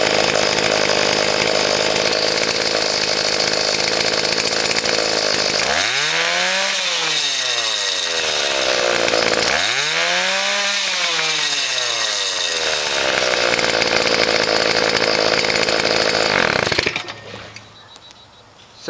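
A small scooter engine idles steadily after its carburetor intake spacer, once mounted upside down and causing an air leak, has been corrected. Two revving swells rise and fall before the engine cuts off near the end.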